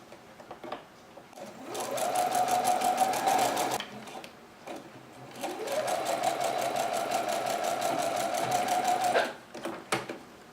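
Sewing machine stitching a centered zipper, running in two sustained close bursts with a brief pause between them, alone without talk.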